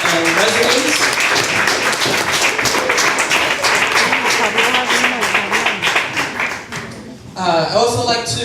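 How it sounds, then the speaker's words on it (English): Audience applause rings out for honorees and residents at a neighborhood community celebration, a loud, dense wash of clapping that fades briefly near the end before surging again. "Let's give a round of applause to our amazing honorees and residents."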